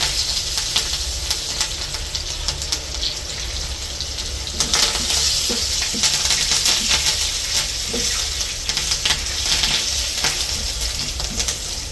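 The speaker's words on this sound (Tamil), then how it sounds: "கச்சான் முத்தும் வந்து பட படண்டு பொரியுது பாருங்க" Peanuts deep frying in hot oil give a loud, steady sizzling hiss with scattered crackles and pops throughout, close up and with no talking.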